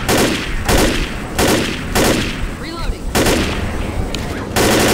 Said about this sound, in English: I'm using the assault rifle because it's my favorite gun in the whole game